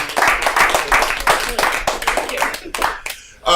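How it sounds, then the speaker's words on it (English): Audience applause for comedian Marie Salter at a comedy night, a moderate burst of clapping with distinct hand claps that thins and breaks off, followed by a brief return of sound at the end. "We're gonna go ahead and keep a round of applause again for Marie Salter"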